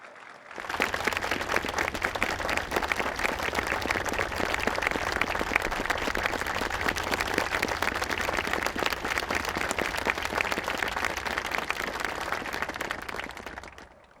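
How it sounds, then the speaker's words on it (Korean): A large audience at a Korean Police Day ceremony bursts into sustained, dense applause that holds steady for over ten seconds before tapering off at the end. "큰 박수 부탁드립니다"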